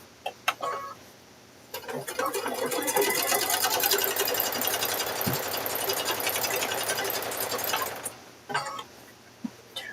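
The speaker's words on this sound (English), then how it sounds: "Try not to sew your fingers." A sewing machine stitches fabric-wrapped rope into a coiled bowl, running loud and steady for about six seconds with short bursts and clicks before and after.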